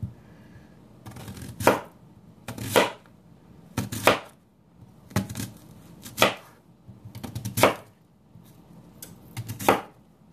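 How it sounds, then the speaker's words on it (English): A knife cuts through an onion into rings on a board, seven crisp chopping strokes spaced about a second apart, each a sharp close thud with a short slicing scrape just before it, and quiet between. "we're just going to slice this onion"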